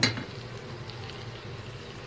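Potatoes and chicken breasts being stirred in a frying pan while onions brown, with a clink of utensil on pan at the start and then a soft, steady sizzle close by.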